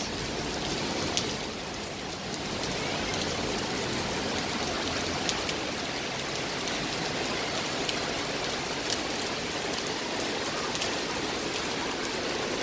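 Heavy rain pouring steadily, a dense, continuous hiss with scattered sharper drop impacts, loud and unbroken for over twelve seconds with no voices.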